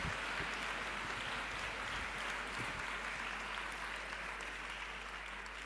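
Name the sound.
audience applause at closing ceremony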